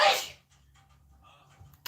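One loud, sharp human sneeze bursts out at the start, then fades into near-silence with faint room noise and a brief click at the end.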